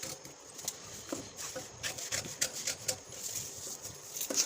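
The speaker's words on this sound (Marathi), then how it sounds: "कापून दाखवते मी तुम्हाला, कापल्यानंतर तुम्हाला अजून जरा नीट कळेल." Scissors cut through a paper pattern for a katori blouse, giving soft scraping snips that repeat irregularly at close range, faint and steady with no other sound.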